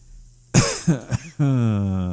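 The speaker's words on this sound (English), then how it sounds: "Coughing." A burst of a few harsh, close coughs in quick succession, followed by a sustained voiced sound.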